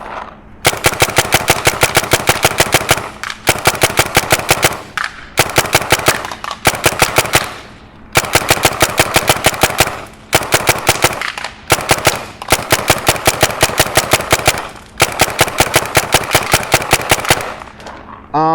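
Tippmann A5 paintball marker firing in rapid semi-automatic strings, several bursts of fast, evenly spaced loud pops separated by short pauses, close and without talk.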